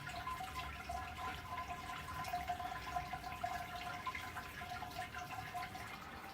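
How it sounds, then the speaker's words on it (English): Hot sparge water poured from a Brewzilla over grain while brewing a West Coast IPA, a quiet, steady trickling and splashing flow that continues without a break. "I'm going to sparge with the hot water that I've heated up in my Brewzilla."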